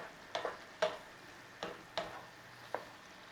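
Beef and onions cooking in a pan with a quiet background sizzle, punctuated by five or six soft scraping strokes of a utensil turning the mixture at irregular intervals, close and faint.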